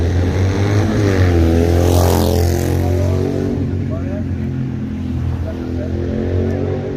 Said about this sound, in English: You fucking loud ass, fucking car.